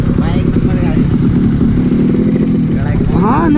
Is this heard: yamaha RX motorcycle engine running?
yes